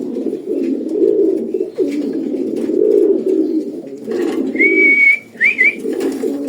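A pair of racer pigeons coo in steady, close, low throaty phrases, joined near the end by a short high whistle.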